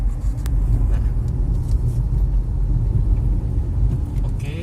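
A Mazda CX-5 cruises at low revs, a steady low road rumble and engine drone heard from inside the cabin with faint scattered clicks and no talking.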